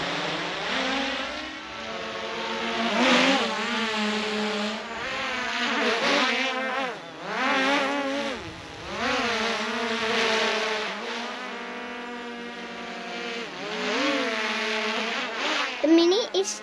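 Small DJI consumer drone, Mini SE or Mini 2 class, buzzing steadily in flight with high whining rotor tones that waver in pitch as it maneuvers, continuous and fairly close for the whole stretch.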